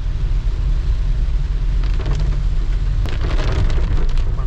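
Heavy downpour on the road to Malvan in the Konkan, a loud, dense, continuous roar of rain with low rumbling underneath and brief bursts of sharper splashing.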